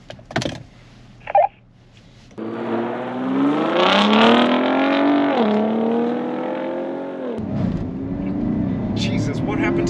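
A 2022 Land Rover Defender V8 and a Ford F-150 Raptor launch side by side in a drag race, a loud rising engine roar building and shifting pitch for several seconds after brief clicks and a short voice.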